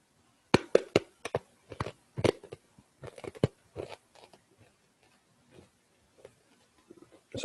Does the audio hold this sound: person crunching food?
yes